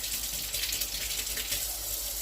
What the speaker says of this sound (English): And then add your ice cold water.